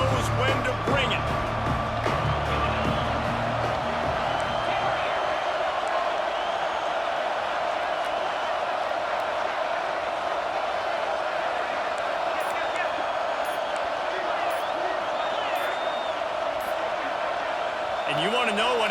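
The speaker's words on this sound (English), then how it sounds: "This crowd knows when to bring it." Stadium crowd in College Football 26 during an online league game between Tennessee and Oklahoma State, roaring steadily for the whole stretch, a loud sustained wash of cheering with commentary talking over it.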